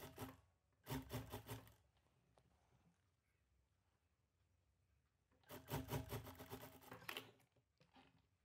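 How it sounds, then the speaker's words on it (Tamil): A sewing machine stitches a saree blouse in two bursts of rapid, steady mechanical rattling separated by a quieter pause, with no talk over it. "இந்த மாதிரி வந்து இது ரவுண்டுக்கும் வந்து நான் தையல் போட்டு எடுத்துக்கிட்டேன்"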